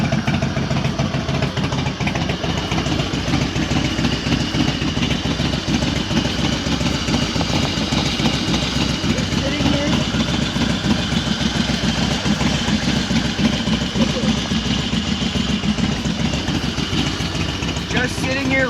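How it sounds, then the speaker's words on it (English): A 1999 Harley-Davidson motorcycle engine idles steadily with a low, pulsing chug throughout, while people talk over it now and then. "I already feel the bike like not vibrating as much as it's idling"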